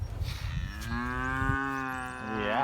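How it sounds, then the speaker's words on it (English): Cows in a pasture give a long, drawn-out moo that swells and holds for a couple of seconds, loud and close, with a lighter rustle before it and no talking. "I'm out in the pasture with my herd of cows."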